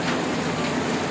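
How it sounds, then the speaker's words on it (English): Steady, dense hiss of heavy rain pouring down, loud and continuous with no voices. "It's raining very heavily."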